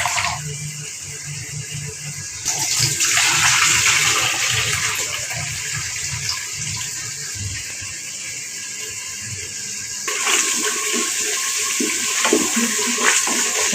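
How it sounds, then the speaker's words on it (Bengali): Water running and splashing as raw beef is washed for kacchi biryani in a home kitchen, loud continuous gushing with bursts where the flow strengthens and sloshes, with no talking. "গরুর মাংস বেশি ধোয়া লাগে না, 2 ধোয়া দিলে সুন্দরভাবে যথেষ্ট হয়ে যায়।"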